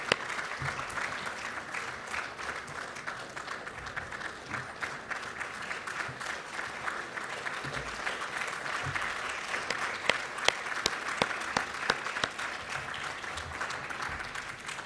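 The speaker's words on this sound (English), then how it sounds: "I would invite you to give a big applause to all the team of REMPEC" Sustained applause from a large audience at a 40th anniversary event for the REMPEC team, steady and dense clapping filling the whole stretch at moderate distance with no speech.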